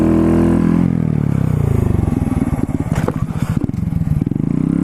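A motorcycle doing a stoppie as its front brake is squeezed hard: a loud, close engine drone with a pulsing low rumble, plus some clatter and scraping as the bike slows.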